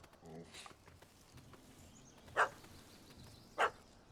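A puppy in The Witcher 3 gives two short, sharp barks spaced about a second apart, sounding moderately close over a quiet ambient background with faint voices.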